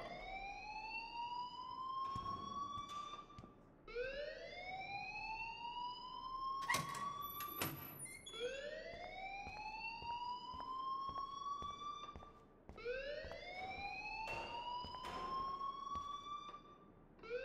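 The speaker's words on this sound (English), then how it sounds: "please turn off that alarm since that's your job" A school fire alarm in the video game Life is Strange wails in repeated rising electronic siren sweeps, steady and continuous, with a few sharp clicks between cycles and no talk.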